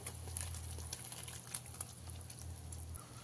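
Yogurt gravy for dahi bhindi simmers in a pot over a medium gas flame, giving a faint steady bubbling and light pattering with a low hum underneath.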